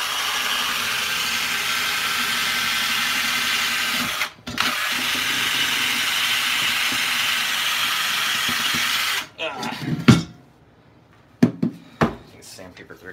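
A power drill spins 30-grit sandpaper against a Dutch oven, a steady loud grinding whine for about nine seconds with a short break near four seconds, then it stops and a few scattered knocks and clatters follow.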